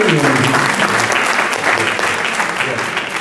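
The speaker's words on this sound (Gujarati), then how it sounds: "એકવાર વિનુભાઈ અને હસુભાઈ માટે જોરદાર તાળીઓ." Audience applause at a Shrimad Bhagwat Saptah religious discourse gathering, dense sustained clapping from a large crowd, loud and continuous for a few seconds.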